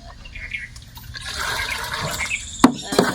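Water pours into a bucket during household chores, a splashing, liquid rush building over a couple of seconds and ending in two sharp clattering knocks, with faint background noise.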